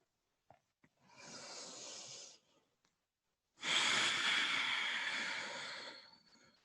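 Two slow, deep breaths during a guided breathing exercise, a long inhale followed by a fuller exhale after a pause, close and airy with no talk.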